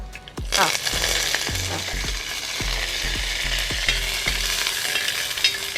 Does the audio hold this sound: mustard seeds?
yes